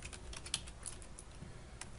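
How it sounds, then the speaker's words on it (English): Quick typing on a computer keyboard, a rapid patter of soft key clicks close by with one sharper tap, over a faint steady background hiss. "And then we'll type in a line break"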